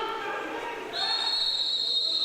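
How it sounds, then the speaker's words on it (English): A referee's whistle at an ice hockey game sounds one long, shrill, sustained blast that cuts in midway and holds to the end, over a background of arena noise and a commentator talking. "the referee still blew the whistle"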